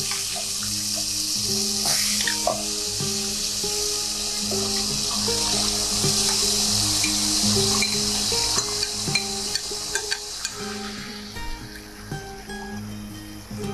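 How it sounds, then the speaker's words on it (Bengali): Marinated meat poured into hot tempered oil in a pan sets off a loud, continuous sizzle and crackle that holds steady close by, with faint clinks of utensils and no talk. "ম্যারিনেট করা মাংস, ম্যারিনেট করা মাংসটা দিয়ে আমি ঢেলে দিচ্ছি এইভাবে"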